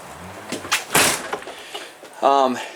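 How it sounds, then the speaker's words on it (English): A door inside a 2020 Forest River Vibe 28RB travel trailer swings and closes with a soft thud amid light handling noises, followed by a brief voice. "Let me shut this door in here."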